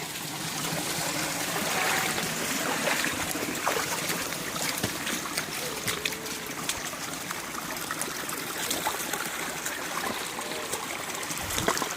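A small woodland creek feeding toward the Shenandoah River flows steadily nearby, its continuous trickling and babbling water filling the whole stretch without pause, with no voices over it.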